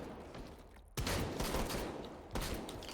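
Shotgun fire in a competitive video game match, with a few loud, sharp blasts spaced apart over a busy background of game noise.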